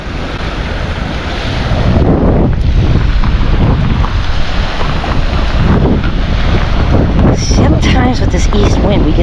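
Strong east wind buffets a microphone on a Pinellas beach, a loud, roaring rumble over surf that swells and stays heavy throughout.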